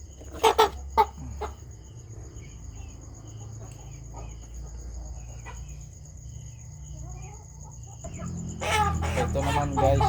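Chickens, including a white hen, cluck in a few short bursts at the start, with steady insect chirring and a low hum through the night and louder clucking fowl noise toward the end.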